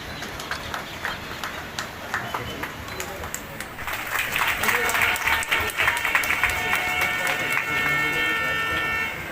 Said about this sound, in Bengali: আমরা সবাই হাততালি দিয়ে সম্বর্ধনা জ্ঞাপন